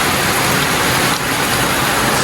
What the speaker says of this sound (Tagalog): Kasi ang lakas-lakas ng ulan.